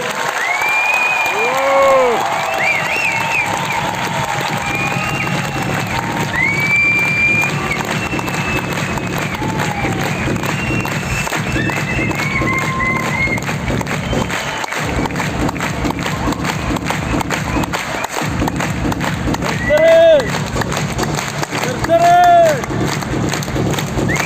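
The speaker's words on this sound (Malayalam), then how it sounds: "കയ്യടി കയ്യടി." A crowd claps and cheers amid loud, dense background noise, with voices and whistles rising over the din and a few louder bursts near the end.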